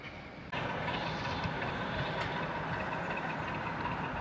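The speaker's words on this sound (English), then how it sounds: "The thing about these large layouts is the ability to run full-length trains like the HC there." A full-length model train running on a large exhibition model railway layout, a steady close rumble and clatter that starts abruptly and continues evenly.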